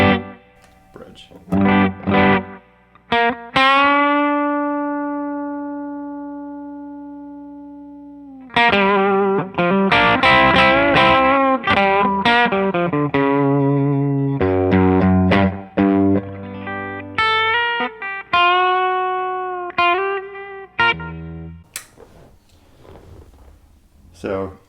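Crunchy, distorted electric guitar, an Epiphone '59 Les Paul on its bridge pickup, plays a long run of riffs and single notes, with held notes, quick flurries and brief pauses, loud and close.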